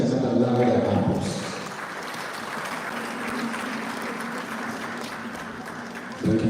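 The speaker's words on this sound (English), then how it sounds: "I think he deserves yet another round of applause." A parliamentary gathering gives a round of applause: a broad, continuous rush of many people clapping in a large room, slightly muffled, with a tonal hum underneath at the start and end.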